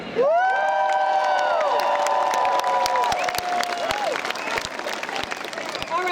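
A large crowd at the World Pride 2014 opening ceremonies cheers, whoops and shouts in long rising yells, with steady applause underneath that continues after the cheering fades.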